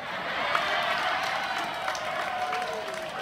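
Audience clapping during a humorous Islamic sermon in Blora Regency, a dense burst of applause with some crowd voices mixed in that slowly thins toward the end.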